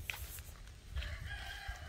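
Chickens on a farm cluck and call faintly in the background, with a short high crowing note rising near the end.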